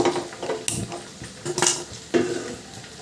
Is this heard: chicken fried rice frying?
yes